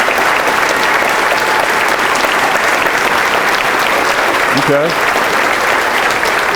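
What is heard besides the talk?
audience applause for the scholar athlete honorees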